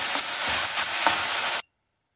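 Chopped tomatoes go into sizzling fried onions, giving a bright, loud frying hiss with a few stirring scrapes that stops abruptly after about a second and a half.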